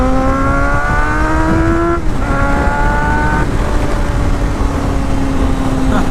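A 1999 Honda CBR 600 F4, a 600cc sport bike, revs its exhaust hard, pitch climbing then dropping at a gear change before rising again, loud and close with a buzzing harmonic tone.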